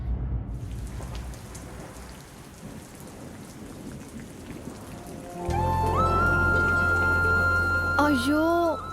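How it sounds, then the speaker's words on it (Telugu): Steady rain falls as a dense, even hiss with a hint of thunder, then a loud musical score swells over it partway through. "వాన పడుతుందే."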